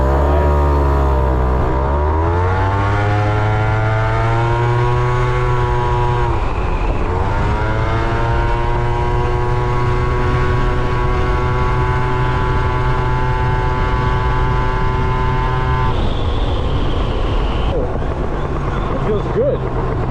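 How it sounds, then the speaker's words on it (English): A liquid-cooled 180cc Italjet Dragster scooter fitted with Malossi parts accelerates hard on a speed test, its engine note climbing steadily through the gears with a loud, buzzing rev. Wind noise runs throughout, and a brief drop and re-rise comes near the end. "Very strong motor. Obviously this is the 180cc liquid cooled Italjet Galera runner."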